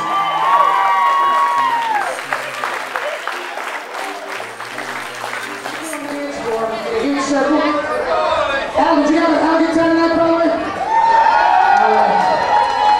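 Wedding guests at a country club reception applauding the newlyweds, a room-filling burst of clapping and cheering with whoops, while an amplified announcer's voice carries over the crowd.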